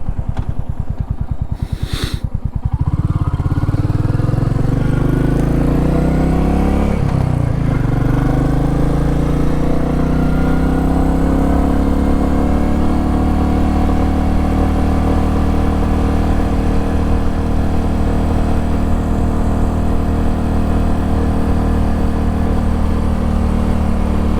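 Motorcycle engine running steadily through a January ride, a brief rev near the start settling into a continuous loud drone with wind rush, no talk over it.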